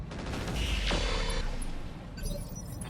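Mech weapons fire on a vehicle in the video game Roguetech: a short burst of gunfire and impacts with a rising whoosh, loud and close over rumbling background.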